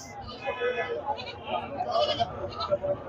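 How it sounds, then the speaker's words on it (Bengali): A Totapuri cross goat at the busy Charmonai cattle market in Barishal bleats several times in short, wavering cries, mixed with nearby people talking. "এটা তোতাপুরি ক্রোস ছাগল"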